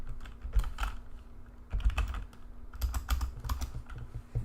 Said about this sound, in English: Like my typing is like super delayed.